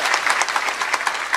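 An audience at a devotional gathering about the Pandharpur Wari pilgrimage claps in a burst of dense, loud applause that stays steady and close through the whole moment.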